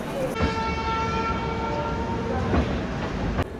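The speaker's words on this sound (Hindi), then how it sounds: "रात 3:30 बजे हमारी ट्रेन को लगाया जा रहा है हज़रत निज़ामुद्दीन रेलवे स्टेशन के प्लेटफॉर्म नंबर 6 के ऊपर" A WAP-7 electric locomotive from Ghaziabad shed idles with a steady, loud hum and faint tonal whine beside platform 6 at Hazrat Nizamuddin railway station in Delhi at night, with a soft clunk near the end.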